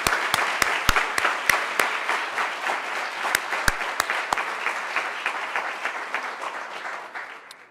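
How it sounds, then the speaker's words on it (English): An audience applauds graduates at a university scholarship ceremony, a steady wash of clapping with a few sharp nearby claps standing out, fading gradually toward the end. "Let's have a round of applause for our graduates."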